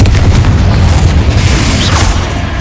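In the Hogwarts Legacy video game, a Confringo fire spell detonates with a loud, heavy explosive boom that rumbles through the whole short moment before easing slightly at the end.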